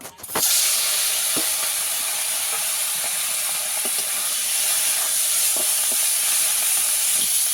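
Shrimp coated in salt and turmeric fry in hot oil, giving a loud, steady broadband sizzle with scattered pops and crackles after a sharp knock at the start, no one talking.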